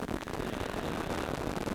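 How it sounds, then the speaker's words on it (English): Electrical firing of about 100 brain cells routed to a loudspeaker, a dense crackling static like popcorn in a badly tuned AM radio, steady and faint with no voices. "This is what happens when you route these electrical storms to a loudspeaker and you listen to 100 brain cells firing."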